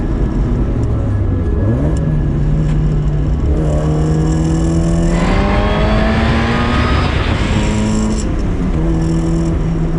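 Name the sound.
supercharged Mazda Miata NA track car engine accelerating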